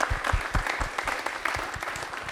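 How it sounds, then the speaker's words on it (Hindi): An audience at a Republic Day quiz event applauds a winner who answered correctly. The clapping is lively and uneven, with stronger bursts early, and it continues at a moderate distance. "तालियां एक बार जोरदार हो जाए।"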